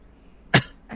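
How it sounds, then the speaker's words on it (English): A single short cough, close and fairly loud, in a quiet room. "Cough, cough."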